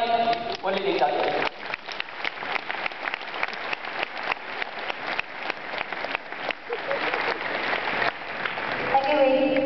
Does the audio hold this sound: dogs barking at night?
no